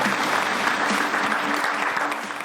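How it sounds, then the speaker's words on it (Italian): Studio audience on a sports talk show bursts into loud, dense applause, a continuous roar of clapping close and full for the whole stretch, with a faint voice underneath. "Un applauso allora a Caparana e a Luis Entella."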